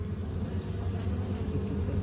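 A steady, dense buzzing of many bees around a hive recovering from wax moths, continuous and close, with no pauses or other sounds standing out.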